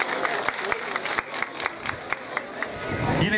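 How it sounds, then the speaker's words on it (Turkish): A festival audience applauds a contestant, with sparse, rhythmic clapping and a murmur of crowd voices underneath, moderately loud. "Bir alkış da Asım amca için istiyorum sizlerden."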